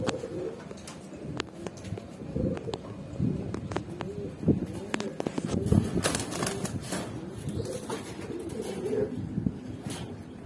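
Pigeons at a market, mixed breeds including racers, give repeated soft throaty coos alongside some wing fluttering and background bustle, fairly close and moderately loud.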